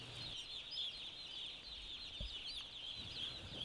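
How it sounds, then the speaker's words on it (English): Broiler chicks in a brooding barn, a dense continuous chorus of high peeping cheeps heard faintly at a distance, steady throughout with no talk. "I got all these wonderful little chicks running around me"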